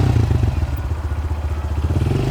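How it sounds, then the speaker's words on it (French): A 2026 Honda CRF 125 dirt bike engine gets a little throttle, its low, pulsing mid-range drone throbbing steadily and close by without any talk. "On met un petit peu de gaz."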